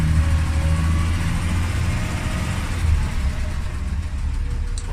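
A 1969 Mercedes Unimog creeps slowly forward in low gear across a parking lot, its engine giving a steady, loud, low rumble throughout with no pauses.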